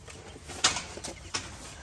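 A small flock of turkeys calls with three short, scattered squawks over a faint steady background, moderately close, with no talking.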